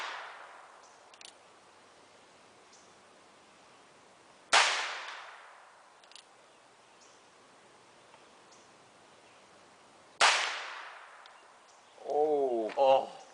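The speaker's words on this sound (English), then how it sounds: "6-shooter, .22 caliber 22 long rifle pistol." Two sharp gunshots from a .22 caliber long rifle six-shooter revolver fired at an e-cig battery, each loud crack trailing into a decaying echo outdoors, with brief voices after the second shot.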